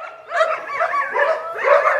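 Police dog puppies bark and yip loudly and close up during play, in a rapid overlapping run of high, whiny barks and yelps that lasts two seconds, with no talk.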